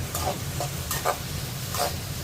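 Carrot and capsicum fry in a kadai for veg white sauce pasta, giving a steady sizzle with a few brief scraping stirs, close and moderately loud, with no talking.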